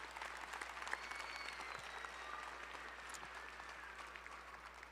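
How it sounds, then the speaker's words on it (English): A room of graduates and guests at a community college adult education graduation ceremony gives a continuous round of applause, heard at moderate distance with steady, even clapping. "let's give them a round of applause for their extraordinary work"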